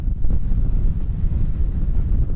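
Steady wind buffets the microphone with a low, continuous rumble by the sea at Howth, County Dublin, masking any faint sea sounds underneath.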